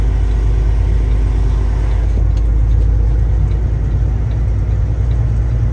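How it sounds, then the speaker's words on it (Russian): A truck with a loud, steady engine rumble as it pulls away and keeps driving, the low drone constant and close throughout with no talk. "вот мы это трогаемся, едем."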